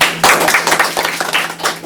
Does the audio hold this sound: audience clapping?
yes